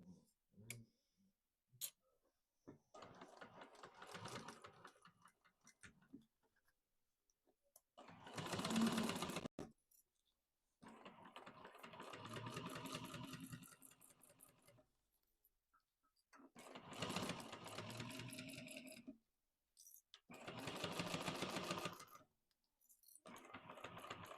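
A sewing machine chain-stitches a messenger bag in several separate runs, each a busy whirring burst of a few seconds with quiet pauses and small clicks between.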